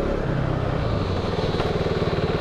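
A KTM Duke motorcycle engine accelerates, its rapid pulsing exhaust close and loud, building in a steady throbbing rhythm over continuous road and wind noise.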